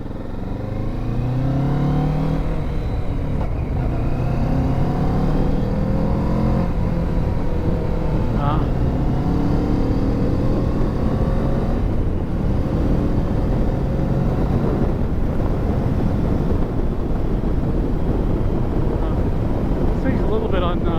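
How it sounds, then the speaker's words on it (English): Kawasaki Ninja 650 motorcycle downshifting through the gears with a quick shifter and no clutch, engine note stepping up and down under steady heavy wind rush, with a rider's voice talking over it. "I'll shift down lower gear right now without using the clutch."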